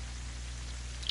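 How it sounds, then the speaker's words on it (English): Rain falling over a desert in the video game Terraria, a steady soft patter with no pauses, heard alone for about a second. "Look at how it's raining in a desert."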